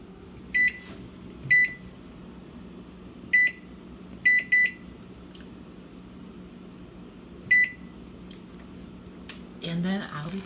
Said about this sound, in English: my 10-minute timer just went off